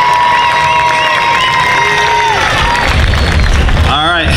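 A crowd at a cosplay contest during the Orlando Japan Festival cheers and claps for a contestant, loud and close, with shrill whistles and shouts over the roar and a low rumble near the end.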